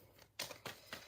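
A deck of tarot cards is shuffled by hand, giving three quick, crisp papery bursts at an even pace, quiet and close with nothing else around them.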